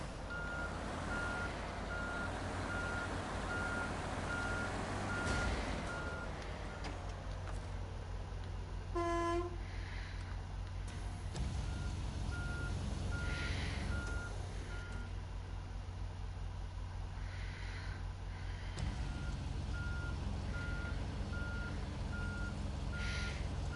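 A truck in the video game SnowRunner, on PS5 in the Zurdania region, stuck and reversing: evenly spaced electronic reversing beeps over a steady engine drone, with a short horn toot partway through and no speech.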